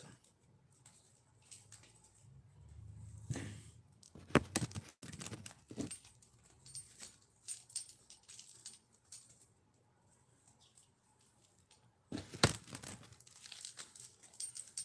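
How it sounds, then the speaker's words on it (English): A deck of tarot cards is cut and handled, producing close irregular rustles, crinkles and sharp card snaps in scattered bursts, with quiet gaps between. "Let's cut the deck."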